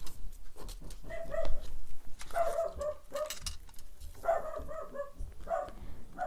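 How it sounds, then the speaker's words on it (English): Indoors, a dog barks repeatedly after a knock at the front door, with several moderately loud, fairly regular yaps spread across a few seconds and some light household noise underneath. "my dog's going crazy because someone just knocked at the front door."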